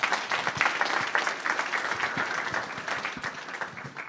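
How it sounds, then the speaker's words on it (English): A room full of people at a school advising panel gives a hearty round of applause, loudest at the start and gently tapering, individual claps distinct within the steady wash. "Please give them a round of applause"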